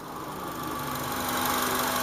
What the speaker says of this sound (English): See, this is normal idling after the replacement of the IAC valve